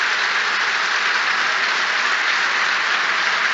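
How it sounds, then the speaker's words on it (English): Football crowd in a stadium gives a minute's applause at a League Two playoff final, a steady, unbroken roar of clapping from thousands of hands, loud and constant throughout. "This is a minute's applause"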